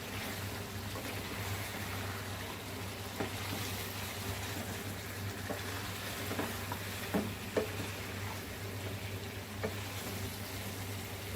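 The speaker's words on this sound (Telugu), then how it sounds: "మనం వాటర్ వేయకుండానే ఫ్రై చేసుకుందాము" Country chicken frying in a pan without added water, with fresh coriander, stirred now and then: a steady low sizzle with scattered soft scrapes and clinks from the stirring, close by and alone.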